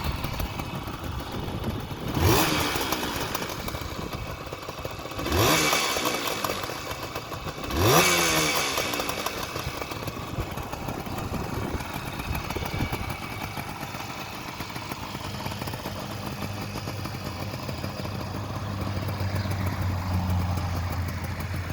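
A 1975 Suzuki GT185 two-stroke motorcycle engine runs at a steady idle, with three sharp blips of the throttle early on, recorded up close outdoors on a sunny day with no talking.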